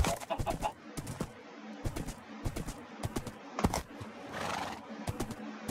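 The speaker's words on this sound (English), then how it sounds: "Hey, chickens." Minecraft chickens cluck and squawk in short bursts amid footsteps and rustling, fairly close, with no talking.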